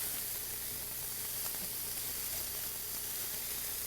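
Vegetables sautéing in a pan, a faint even hiss of sizzling oil with a slight scrape, quiet and steady with no talk.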